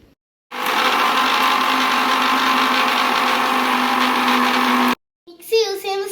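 A mixie blender whirs cold coffee with an ice cube in a loud, steady, close grinding drone that runs several seconds, then cuts off abruptly before a voice speaks briefly.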